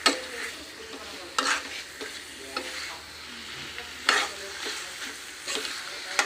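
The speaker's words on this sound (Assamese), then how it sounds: "মাংসৰ পানীটো শুকোৱালৈকে ভাজি ল'ম" Local chicken meat fries in a pan until its liquid dries off, a constant close sizzle with a spatula stirring and scraping against the metal in irregular bursts.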